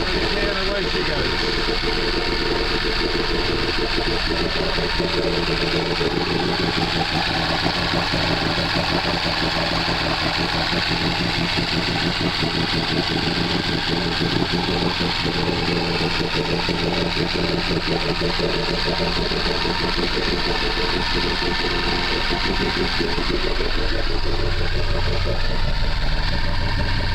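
A Bayliner Capri 1802 boat engine idles at a steady 1200 RPM, a constant loud rumbling drone with a fine pulsing texture that holds evenly throughout, close by, with a voice speaking over it.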